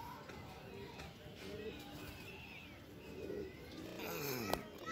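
Pigeons coo softly in the morning outdoors, with low, faint calls scattered through light background noise and someone talking nearby.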